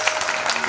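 Audience applause at a bhajan singing competition held for Sri Devi Sharannavaratri, a short burst of steady, dense clapping heard close and fairly loud with no talk over it.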